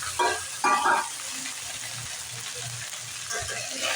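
Cooked rice being stir-fried with cumin seeds and curry leaves in a pan over a high flame, a steady sizzle with a few louder scraping stirs, close up and without talk.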